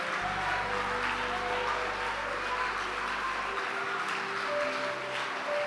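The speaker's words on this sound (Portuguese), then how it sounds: "Aplauda com mais força." A church congregation keeps clapping over held organ or keyboard notes, a dense and steady wash of hands under sustained music.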